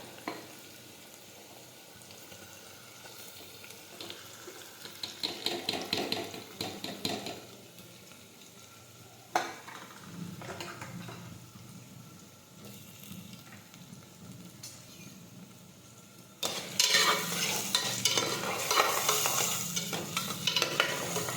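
Chopped onions and tomatoes stirred as they fry in a pan, with bursts of scraping and clattering from the spoon over a steady sizzle that swells loudly toward the end, and no voices.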